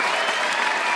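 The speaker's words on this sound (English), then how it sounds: "let's do the applause again." Audience applause, a brief, steady wash of many hands clapping at moderate volume that fills the whole moment with no voices on top.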